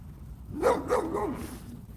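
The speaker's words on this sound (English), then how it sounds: "I think I surprised the dog a little bit." A dog outdoors at night gives a short burst of two or three fairly close barks, alone against quiet surroundings.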